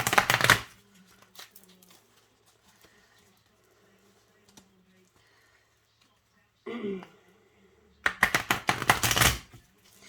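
Bursts of rapid riffling clatter as tarot cards are shuffled on a swivel cheese board, a loud flurry at the start and a longer one near the end, with quiet handling between.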